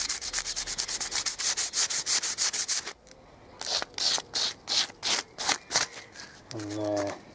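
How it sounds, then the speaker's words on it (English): Sandpaper rubbed by hand over wrought iron edges before painting, a run of quick, even rasping strokes at first, then slower separated strokes after a pause, close and clear with a brief voice near the end. "Basically, you've just got to sand"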